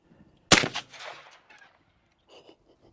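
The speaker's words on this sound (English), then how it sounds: "We have our 460 Magnum here against concrete. Firing." A .460 Magnum revolver fired at a concrete highway barrier outdoors: one loud, sharp close-up blast that rings out and decays over about a second, then faint trailing echo.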